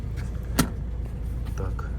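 Two keys for a Renault Grand Scenic with keyless entry give a couple of short, faint metallic clinks inside the car, set over a low steady background hum.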